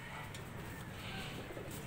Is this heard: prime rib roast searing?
no